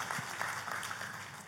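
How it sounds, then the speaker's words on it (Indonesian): Congregation clapping for God during a church service, a soft, distant patter of hands with a few louder claps, faint and roomy. "tepuk tangannya yang meriah buat Tuhan kita"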